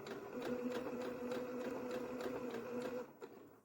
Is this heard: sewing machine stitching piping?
yes